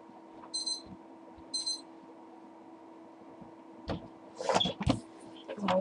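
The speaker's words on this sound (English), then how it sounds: "There's my alarm and I got up earlier" An alarm beeps twice, short bright chirps spaced about a second apart, fairly faint over a low hum, followed by some clattering and a voice speaking.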